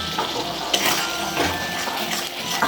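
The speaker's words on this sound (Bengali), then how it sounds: "এবার আমি এইটা তৈরি করে রাখা এই গ্রেভির জলটা এবার এটার মধ্যে দিয়ে দিলাম" Prepared gravy water poured into a pan of chili chicken, a close splashing, gurgling pour that runs steadily with brief surges, no talking.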